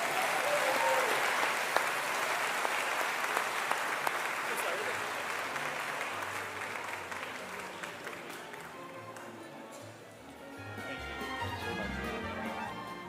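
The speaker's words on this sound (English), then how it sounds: "please can we have a round of applause for NBL Executive Director, Mr. Larry Kesselman" An audience at a basketball league MVP and awards night applauds an executive director, with loud, dense clapping that starts at full strength, eases slightly, dips briefly and then swells again, with a little crowd murmur underneath.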